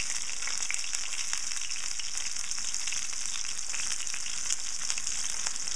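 Chicken cutlet frying in a generous amount of olive oil in a pan gives a steady, dense sizzle with crackles and pops throughout, close and continuous with no talking.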